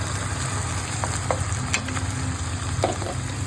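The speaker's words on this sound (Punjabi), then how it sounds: "ਇਹਨੂੰ ਬ੍ਰਾਊਨ ਕਰਕੇ ਇਹਦੇ ਵਿੱਚ ਸ਼ਿਮਲਾ ਮਿਰਚ ਪਾ ਲਵਾਂਗੇ" Onion browning in hot oil in a home pan, with capsicum added for an egg paratha filling, gives a steady close sizzle and a few soft stirring scrapes, with no voices.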